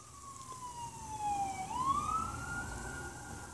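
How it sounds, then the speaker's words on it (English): An ambulance siren passes by outside, its wail sliding down and then rising again at moderate volume over a low background rumble, with nobody talking. "an ambulance just went by"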